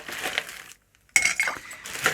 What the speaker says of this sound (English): Completely fill your shaker with ice.